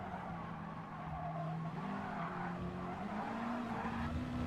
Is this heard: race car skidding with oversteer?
yes